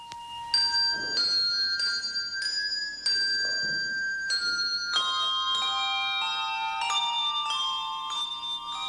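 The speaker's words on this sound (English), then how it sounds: "But the bells are nothing unless you have a group to play them." A group of handbell ringers plays a bright, ringing melody, each struck bell sustaining and overlapping the next as notes shift in a steady sequence, clear and close with no talking.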